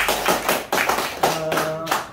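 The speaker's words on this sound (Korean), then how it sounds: "큰 박수 다시 한번 부탁드리겠습니다" Audience applause at a company seminar in Jeju, heard as a group clapping in a few loud, rhythmic bursts nearby.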